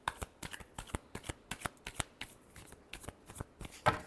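Tarot cards are shuffled close up in a quick, steady run of crisp riffling snaps, about a dozen bursts spaced evenly, ending with a slightly louder flick.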